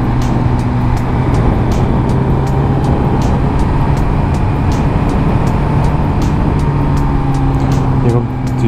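A Suzuki GSX-R motorcycle engine drones steadily and loudly at close range while riding, with constant wind and road roar and a slight change in tone near the end.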